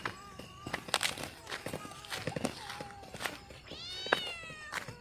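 A cat cries in a graveyard in Gujarat with several drawn-out, wavering meows amid nearby rustling and footsteps, the calls rising and falling at moderate volume.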